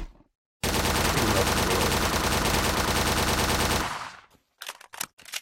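Loud, rapid automatic gunfire rings out in the video game Planet Explorers during a hunt, a sustained burst of about three seconds that cuts off abruptly, followed by a few short, sharp shots.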